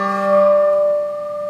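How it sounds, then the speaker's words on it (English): A single higher-pitched bell rings out once, its clear tone sustaining and slowly fading. "I'm going to play the higher bell now."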